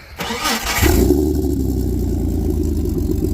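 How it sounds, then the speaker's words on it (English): A Jeep engine with straight-pipe exhaust cranks briefly, catches, and settles into a loud, deep, rumbling idle with a raw, throaty exhaust tone, close by. "go ahead and start her up, Kale."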